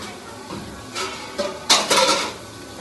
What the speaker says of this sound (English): So I have to mix right now and then pasta is ready.